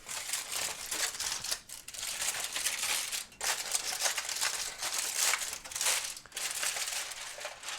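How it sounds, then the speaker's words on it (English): Aluminum foil crinkles and rips as a rested brisket, cooked on a Weber charcoal grill, is unwrapped; steady close crackling and crumpling for several seconds with brief pauses, no talking. "Let's get it out of the foil that I have it wrapped in."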